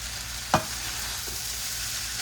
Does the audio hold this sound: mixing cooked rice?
yes